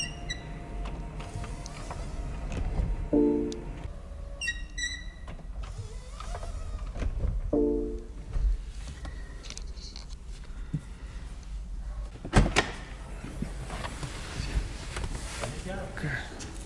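The electric folding roof of a 2018 BMW i8 Roadster convertible whirs through its motion in several motor runs with mechanical clicks and a thump, while someone talks intermittently nearby.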